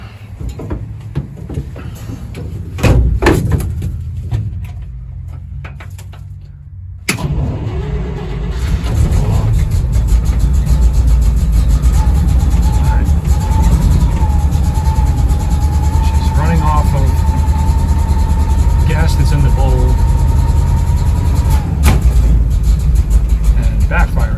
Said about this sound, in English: she's definitely not getting any gas into the carb and running pretty rough